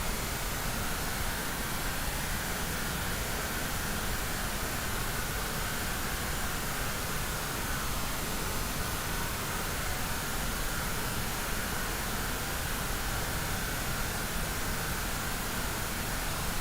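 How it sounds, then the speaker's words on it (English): A pink noise test signal plays through a temple's sound system into the room as a steady, broadband hiss at a constant level, unbroken for the whole stretch. "I will go back to my pink noise"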